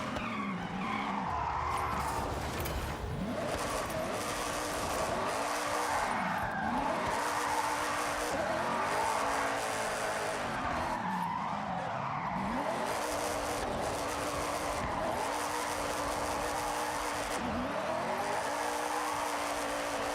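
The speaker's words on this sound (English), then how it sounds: "the cool thing about a Miata is you can get way out of control and you still have so much room in the lane" Mazda Miata driving in Forza Horizon, its engine rising and falling in repeated sweeps as the tires skid and squeal through slides, loud and steady throughout with no voices.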